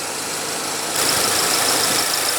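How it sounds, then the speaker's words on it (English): A 2015 Volkswagen Golf GTI's 2.0-liter turbocharged four-cylinder engine idles steadily with a close, even mechanical hum that grows slightly louder partway through, with no voices. "under the hood of this hot hatch, you will find an extremely zippy 2-liter turbocharged 4-cylinder engine"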